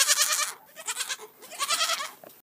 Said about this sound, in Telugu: సోమయ్యతో పాటు వచ్చిన మేకపిల్ల బావి పక్కనే తిరుగుతూ నిరాశతో అరవసాగింది.